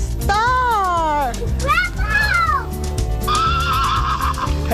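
A big horse neighs in a loud, wavering whinny with a second call following, while children and people chatter around it over a steady background hum.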